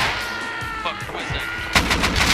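Gunfire in the online video game Rust, with a loud rapid burst of shots near the end after a stretch of noisy in-game rumble and muffled voices.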